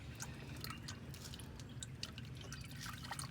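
Motor oil drains from the engine of a 2.5 Nissan during an oil change, a steady close trickle and drip of liquid running continuously with no talk.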